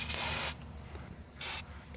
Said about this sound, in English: We're going to spray white lithium.